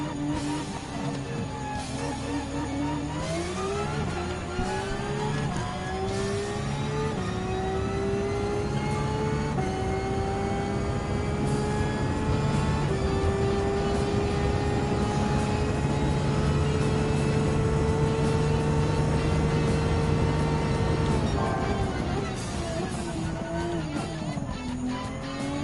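A Type 992 Porsche 911 GT3 RS engine in Gran Turismo 7 revs hard and long, its pitch sweeping upward through sustained gear pulls for over twenty seconds before dropping off near the end, loud and continuous.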